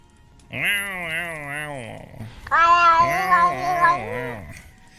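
A person imitates a cat, producing two long, wavering, sung meows: a drawn-out first call, a short pause, then a louder second one.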